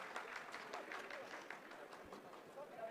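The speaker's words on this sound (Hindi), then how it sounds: "आप इस तालियों की गड़गड़ाहट को सुन सकते हैं" Scientists in a mission control room clap steadily at low volume after the Chandrayaan-3 moon landing phase, a continuous patter of applause with a faint murmur of voices beneath it.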